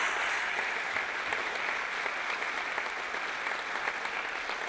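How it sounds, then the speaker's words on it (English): Sustained applause from an audience at a Law Day event honouring a former Poston incarceration camp internee, steady dense clapping filling the room for the whole stretch with no voices over it. "So please give him a round of applause."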